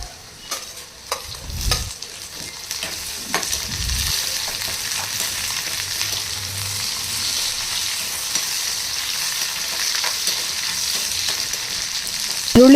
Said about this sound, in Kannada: ಈರುಳ್ಳಿ ಸ್ವಲ್ಪ ಕೆಂಪಗಾಗೋವರೆಗೂ ಫ್ರೈ ಮಾಡ್ತಾನೆ ಇರಬೇಕು.